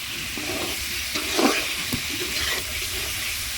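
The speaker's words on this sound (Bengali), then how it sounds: "একদম সুন্দরভাবে আমি কষান করে নেব" Dried fish and vegetables fry in a pan with a soft, steady sizzle, broken by a few clattering scrapes as the mixture is stirred, close and fairly quiet.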